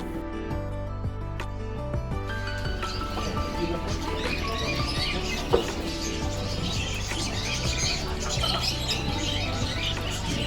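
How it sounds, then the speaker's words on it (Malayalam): Many caged lovebirds, including African lovebirds, and pigeons chirp and chatter nonstop in a busy, loud chorus at Souq Waqif market in Qatar, with a steady low hum beneath and no one talking. "love birds, African love birds"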